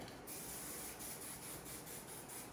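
A continuous faint hiss of hairspray being sprayed, with slight pulsing, steady and close with no talking.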